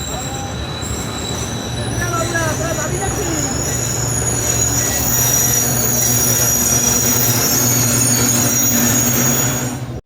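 A commuter train pulls into Nagarkanda railway station, its wheels squealing loudly and steadily over rumbling carriages, with a crowd of onlookers present and voices faintly in the background.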